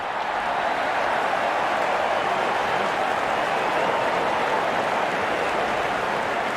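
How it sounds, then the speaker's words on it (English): A stadium crowd in a cricket video game roars and cheers steadily and loudly throughout, a dense, unbroken wash of noise like applause. "There's such a wonderful crowd in to watch their favorite players."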